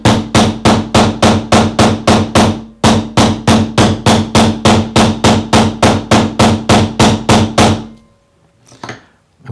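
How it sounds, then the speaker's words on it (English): Steady rapid hammering of metal with a flat-faced combination texture hammer, about thirty loud, evenly spaced ringing blows in a row with one brief pause, ending in quiet with a few faint handling sounds. "So let's have this one here and start to hammer this one."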